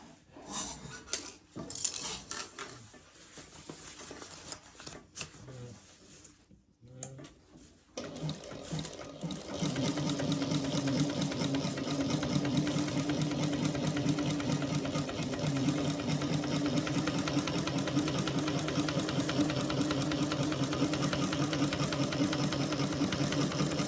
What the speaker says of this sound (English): Top stitching underneath